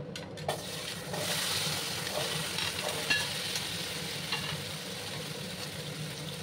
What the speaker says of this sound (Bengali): তারপর আমি কাঠিকচুগুলো সবার ফ্রাই করে নেব